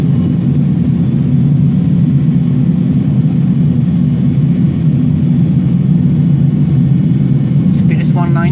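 Pratt & Whitney JT8D jet engines of a DC-9 in a flight simulator, a steady low droning rumble that holds evenly throughout, with a faint chirp near the end.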